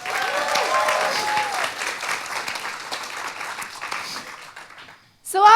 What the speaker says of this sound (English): Can I get a huge round of applause for Jacob and Ting